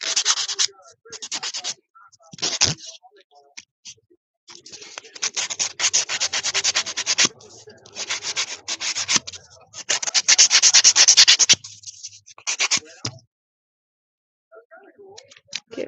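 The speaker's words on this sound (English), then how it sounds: "I like this one because it has a buffer on the other side. It has like a coarser buffer," A coarse nail buffer files acrylic nails in quick, close bursts of scratchy rubbing strokes, broken by short pauses and sometimes stopping altogether.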